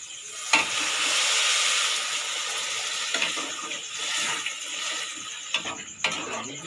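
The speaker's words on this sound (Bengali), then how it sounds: "জল ঢেলে দিচ্ছি।" Water poured into a hot pan of frying potatoes and soy chunks bursts into a sharp hiss, settling into a continuous close sizzle with occasional clinks and scrapes of stirring, and no voices.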